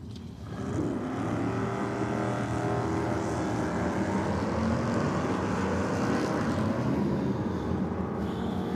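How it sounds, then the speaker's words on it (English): A Chevrolet Camaro at a drag racing event, a sustained loud engine roar building within the first second and holding steady, broad and rumbling throughout. "Dennis Matesic comes out in the Chevrolet Camaro"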